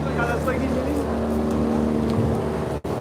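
Steady low engine drone of a riverboat on the Buriganga at the Sadarghat terminal, with the Manami passenger launch of the Dhaka–Barishal route nearby, loud and continuous before cutting off abruptly near the end.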